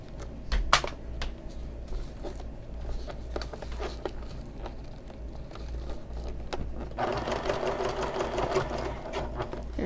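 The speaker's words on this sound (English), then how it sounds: "so I'm going to sew down here a bit, back stitch," A sewing machine stitches bag fabric, including a short back stitch, with a quick mechanical patter and clicks close by. The run speeds up into steady, continuous sewing toward the end.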